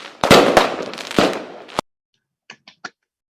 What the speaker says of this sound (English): Now you see the fireworks coming out now from the event.